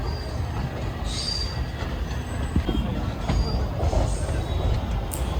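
The Kakatiya Express rolls toward Secunderabad with a steady rumbling clatter of wheels on rail, heard from inside the train, with brief high wheel squeals over the constant noise.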